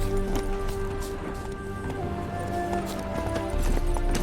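Horse hooves clip-clopping at a run in the Witcher 3 video game, a steady rhythmic beat over a droning game soundtrack, with a brief whinny-like touch and no talk.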